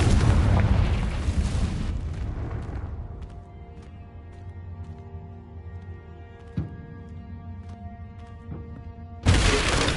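A Confringo blasting spell going off in Hogwarts Legacy: a loud explosive burst that decays into a ringing, shimmering tail with faint tonal hum, a sharp thud midway, then another sudden loud blast at the end.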